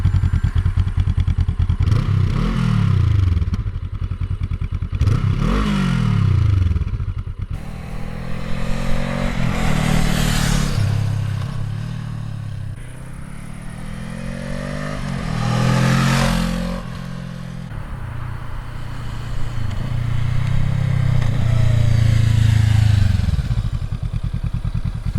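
Honda CL500 with a 471cc liquid-cooled parallel-twin engine, running close by and repeatedly revved in several rising and falling bursts between stretches of lumpy idle, heard alone without talking.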